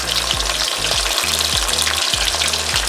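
Pieces of fish for Jamaican brown stew fry in hot oil, a dense, loud, continuous crackling sizzle close by, with a low rhythmic thumping pulse repeating underneath and no voices.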